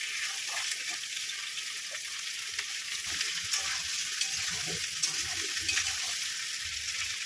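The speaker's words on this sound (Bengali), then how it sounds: "এখানে একসঙ্গে ভেজে নেবো।" Chopped potato, pointed gourd, eggplant and pumpkin fry together in a pan, giving a steady, moderately loud sizzle with occasional small crackles and faint stirring throughout, with no voices.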